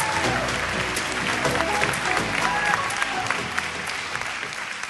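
An audience applauds a keynote speaker, Belinda Goodrich, as she is welcomed to the stage: dense, sustained clapping from a large crowd, loud and even throughout with no voices over it.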